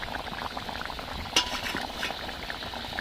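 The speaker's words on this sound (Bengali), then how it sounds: "ঝোলটা ফুটে গেছে ভেজে রাখা মাছগুলো দিয়ে দেব এইভাবে দু মিনিট ফুটিয়ে নেব" Curry gravy bubbling in a pot with fried rohu fish, a close, steady burble of boiling liquid with one brief sharper clink partway through.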